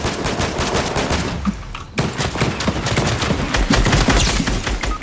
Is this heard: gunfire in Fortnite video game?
yes